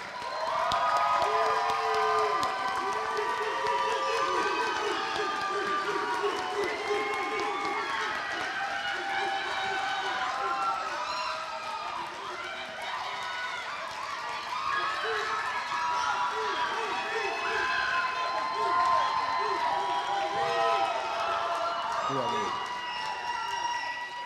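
A graduation crowd for a virtual academy ceremony cheers and claps for the graduates, a dense, sustained roar of shouting voices and applause filling the whole stretch, with children's yells mixed in.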